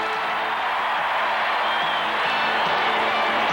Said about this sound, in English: Texas Stadium is jam-packed and a most enthusiastic crowd